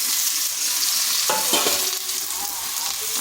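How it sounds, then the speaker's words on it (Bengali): Sliced ridge gourd fries in hot oil over high heat with a loud, close, continuous sizzle and a few brief stirring scrapes in the middle. "আঁচটা হাই আঁচে ঝিঙ্গাগুলো ভেজে নিতে হবে।"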